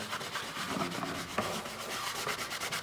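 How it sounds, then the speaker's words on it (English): A dried patch of Drydex compound over a drywall hole is sanded by hand, a continuous, close, raspy rubbing with quick back-and-forth strokes and no talking. "We're gonna sand this out and sand out all the little recess spots around the hole that didn't need to be covered."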